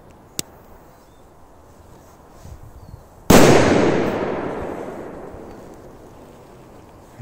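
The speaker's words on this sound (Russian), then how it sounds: "Жесть, очень мощные взрывы." A Furor firecracker loaded with 2 grams of flash powder goes off in a single sharp, very loud bang that rolls away in a long, fading echo, preceded by a faint click.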